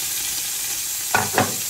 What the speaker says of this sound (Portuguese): Nós vamos agora fritar o bacon.